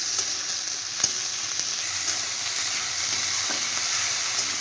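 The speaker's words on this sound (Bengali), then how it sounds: "পেঁয়াজটা একটু হালকা লাল করে ভেজে নেব" Onion and green chilli fry in a pan with steady, close sizzling and crackling, occasional stirring clicks and small pops over a constant hiss, no talking.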